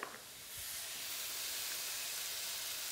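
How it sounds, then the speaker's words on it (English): Ground coriander, cumin and chili powder dry frying in a hot pan for a chicken chickpea curry, a steady close hiss that swells after a faint start and holds evenly to the end, with no voices. "I'm going to mix it really well. This is called dry frying."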